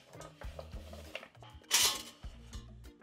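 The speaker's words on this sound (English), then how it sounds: "Now put the carrots into this pot lined with a steamer." Carrot chunks dropped into a pot lined with a steamer insert make a quick series of soft clunks and clatters, with one brighter rattling burst in the middle. Close and fairly quiet, with no speech.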